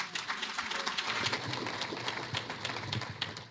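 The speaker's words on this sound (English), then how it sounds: "Give yourselves a round of applause." Crowd applause, a steady dense patter of many hands clapping at moderate volume, continuous throughout without voices.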